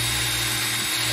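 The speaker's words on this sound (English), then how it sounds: "wire brush the socket out with this little wire brush thing" Small wire brush scrubbing the inside of a pinball machine lamp socket, a steady close rasping buzz that runs the whole time without pause, alone with no talking.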